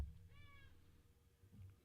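A cat gives a single faint, drawn-out meow indoors, quiet and somewhat distant over a low background hum, with no talking.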